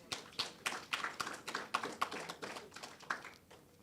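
Small audience at an MOU signing ceremony with a correctional facility claps in a thin, uneven patter of individual hands, close and moderately quiet, with no voices over it.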